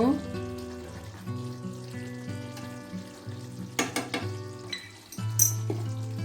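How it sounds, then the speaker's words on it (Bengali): Garam masala and ghee go into a sizzling potato and pointed gourd curry; a close, steady frying hiss runs throughout with a few utensil clinks and stirring scrapes, no speech. "এখন এখানে হাফ চামচ গরম মশলা দিয়ে দেব এক চামচ পরিমাণ ঘি দিয়ে দেব"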